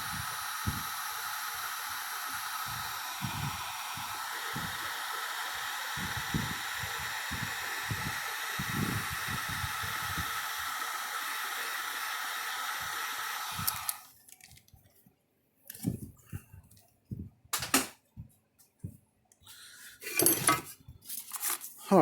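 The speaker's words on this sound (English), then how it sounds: "And now we'll heat shrink the whole thing." A heat gun blows steadily with a broad hiss for about fourteen seconds, shrinking tubing over wires on a Gallagher load bar cable, then cuts off, leaving scattered handling clatter and small knocks.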